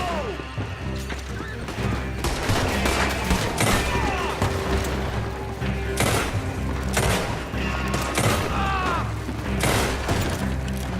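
Gunfire in the Red Dead Redemption 2 video game: loud, close bursts of repeated shots and sharp impacts over a constant low rumble, with brief pauses between the volleys.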